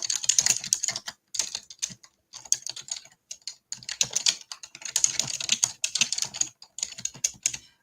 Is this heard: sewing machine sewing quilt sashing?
no